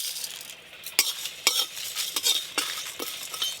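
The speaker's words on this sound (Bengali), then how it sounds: "ভাজা মশলার জন্য এখানে নিয়েছি গোলমরিচ, মৌরি, গোটা ধনে, গোটা জিরে, তেজপাতা, শুকনো লঙ্কা, কাসুরি মেথি একসঙ্গে ভেজে নেব" Whole spices, including black pepper, fennel, coriander seeds, cumin, bay leaf, dried chilli and kasuri methi, are dry-roasted and stirred in a pan. Sharp scraping strokes and light crackles repeat at irregular intervals, close and fairly clear, with no talking.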